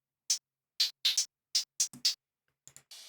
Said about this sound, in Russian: Здесь висит дисторшн с вот такими настройками.